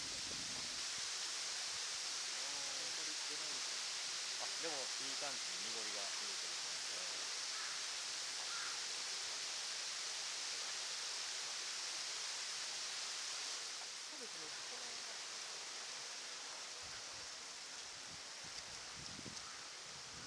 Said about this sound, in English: I'm going to drain mud from intake weir now.